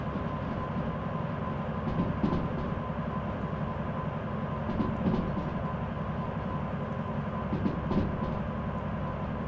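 An 856-ton freight train hauled by a DH4 locomotive rolls along in the Derail Valley simulator, a steady low rumble with soft periodic clacks of wheels over rail joints and no talk.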